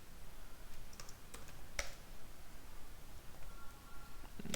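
Code being typed on a computer keyboard, heard as sparse, faint clicks scattered over a steady background hiss, close but soft.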